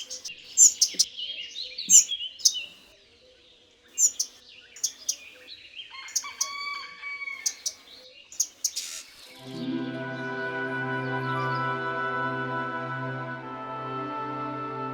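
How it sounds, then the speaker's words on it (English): A bird at the forest edge gives a series of sharp, piercing alarm cries in short bursts, loud and close, followed by a sustained droning tone that takes over near the end. "the threatened bird tends to draw its attention, uttering a sharp cry and drawing him away from the nest"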